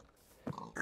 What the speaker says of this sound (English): Okay, so we got pigs